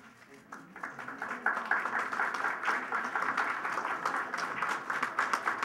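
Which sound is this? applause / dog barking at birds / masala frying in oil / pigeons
applause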